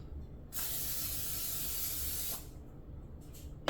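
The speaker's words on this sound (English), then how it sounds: "I will spray the pan with cooking spray before I cook the eggs" Cooking spray hisses from a can onto a frying pan on a stovetop burner in one steady burst of about two seconds, close and alone, followed by faint clicks.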